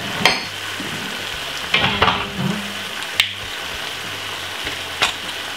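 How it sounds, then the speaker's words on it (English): Jamaican barbecue cabbage being stir-fried with sweet chili sauce and a little soy sauce, giving a steady sizzle broken by several sharp scrapes and clanks of a utensil against the pan. "Just a little bit of sweet chili sauce. And I'm gonna give it a lovely stir."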